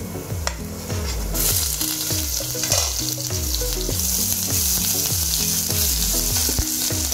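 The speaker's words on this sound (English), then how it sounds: "Let's fry this well." Onions sizzle loudly in a pan with ginger garlic paste and green chillies, a steady close hiss broken by regular rhythmic scrapes of a spoon stirring, with no talking.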